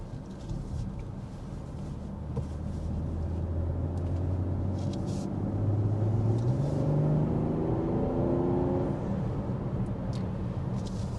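A 2024 BMW X5 SUV rounds a slight bend and merges onto a highway, its engine note climbing steadily through rising revs over a constant cabin road rumble, heard from inside with no talk.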